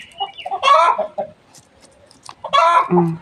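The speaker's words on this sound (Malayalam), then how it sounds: "എന്നെ കണ്ടിട്ട് കോഴിക്ക് ഭയങ്കര സങ്കടം. തുറന്നു വിടാൻ പറയുകയാണ്." A penned hen clucks in short, agitated bursts with pauses between them, close by and fairly clear against a quiet background.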